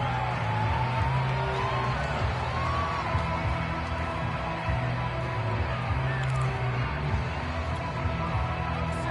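A stadium crowd in a football video game broadcast roars steadily throughout, a dense, continuous wash of cheering and murmur with occasional whoops rising out of it.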